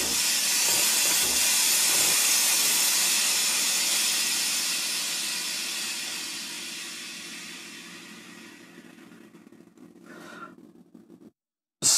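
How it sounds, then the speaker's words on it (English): Breville Bambino espresso machine steam wand hisses loudly and close, a steady rushing jet that slowly tapers off over several seconds before a brief sputter and a click as it stops. "let me just ask for steam."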